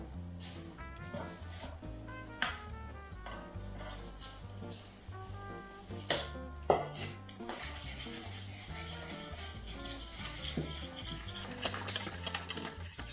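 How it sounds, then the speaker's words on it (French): A utensil stirs flour into custard in a pan, scraping and clinking steadily against the metal with a few sharper knocks, while background music plays throughout. "On va mélanger la farine maintenant."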